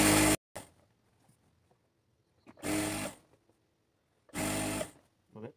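Sewing machine stitching elastic onto palazzo pants, three short loud bursts of whirring with quiet pauses between, and someone speaking softly in the gaps.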